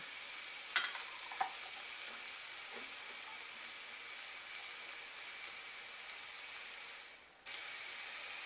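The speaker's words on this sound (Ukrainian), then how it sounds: "порізану кубиками цибулю. Та обсмажуємо ще 2-3 хвилини" Steady, bright sizzling of diced onion frying in a hot pan, with a couple of soft clicks of stirring near the start and a brief dip near the end.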